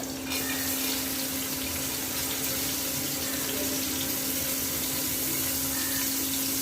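Ginger and garlic sizzle steadily in hot oil as the first step of a mutton biryani, a continuous close hiss that runs without pause and has no talk over it.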